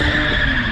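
Manual Lexus IS300 tires squealing as the five-speed car spins after a clutch dump, a loud sustained close screech with engine roar underneath.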